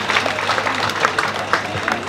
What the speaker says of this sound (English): Give God a mighty hand clap if you accepted it.